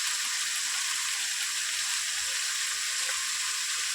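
Meat masala and chicken masala for biryani fry in a pan with a constant bright, hissing sizzle, close and steady throughout with no talk.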